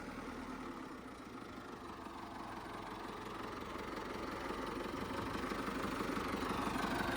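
A front loader's diesel engine idles on a farm during grain loading, a steady low rumble with a faint knock that holds even and close throughout, with no talk over it.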